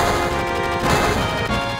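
Gunfire from a full-blown battle in the video game Final Fantasy VII, loud and dense with rapid repeated bursts over a thick, rumbling game soundtrack, without voices.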